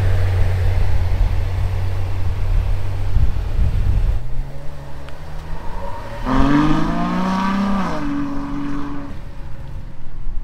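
A Ferrari FF pulls away outdoors, its engine note rising and falling through a couple of gear changes as it moves off, loud at first and steady over a low rumble.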